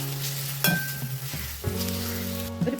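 Onions, crushed garlic and ginger fry in hot oil for a chicken dish, a close, steady sizzle with brief stirring scrapes and clinks.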